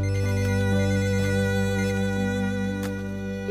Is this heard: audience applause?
no